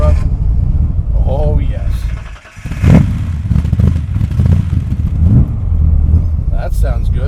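A Superformance 1965 Shelby Daytona Coupe with side pipes fires up, its engine catching with a brief dip and then rumbling loudly and steadily at idle, close by, while someone speaks briefly over it.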